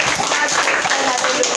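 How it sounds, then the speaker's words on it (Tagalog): A gathering gives a brief burst of applause, dense and loud, with many hands clapping at once and voices mixed in under the clapping. "Palakpak nga natin."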